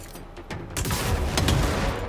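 A grenade goes off in the video game Control, a sharp blast after a short lull and then a rumbling burst of gunfire-like crackle that fills the rest of the moment, fairly close and loud.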